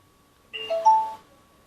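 A short electronic power-on chime from a homemade Bluetooth speaker mounted in an e-bike controller case plays a few rising tones over about half a second, fairly loud and close, over a faint steady hum.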